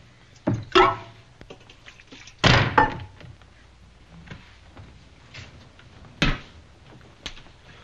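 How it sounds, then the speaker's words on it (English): A door being closed in a Western TV episode, with several heavy thunks and a slam spread across the clip amid quiet room sounds. "Close that door."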